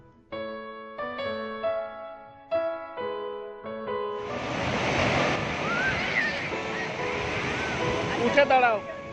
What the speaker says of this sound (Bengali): সাগরের বিশাল বিশাল ঢেউ খুবই খুবই মজার।